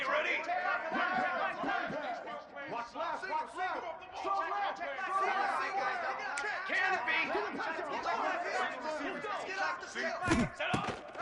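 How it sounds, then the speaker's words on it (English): A home crowd at a football game between Miami and Tennessee roars and yells loudly and continuously, a dense wall of many voices with a sharp bang near the end. "Here comes this home crowd as the defense tries to get off the field on 3rd down."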